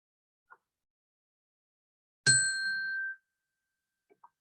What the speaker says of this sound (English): with the 1 bell at the end, I'm sending you back home